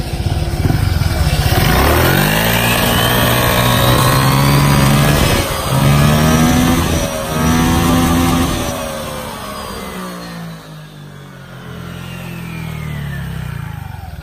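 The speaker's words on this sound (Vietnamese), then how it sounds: "Quay cái nồi nó lên cho anh em xem nha." Honda Vario 150 scooter fitted with a Thai KKPS racing exhaust and ECU, revved hard in repeated rising-and-falling bursts, loud and close, then settling back toward a lower idle near the end.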